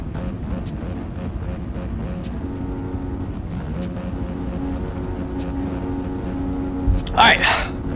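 Dirt bike engines buzzing and revving in the MX Bikes racing video game, a steady droning motor note with rhythmic ticking, capped by a brief loud high-pitched whine near the end.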